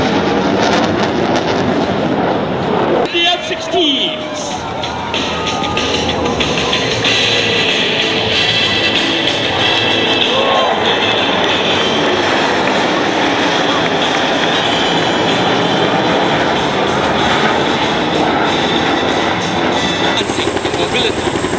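Military aircraft roaring overhead at an air force open house at Paya Lebar Air Base in Singapore, a loud broadband roar that builds and holds over crowd noise, with a brief clatter near the start.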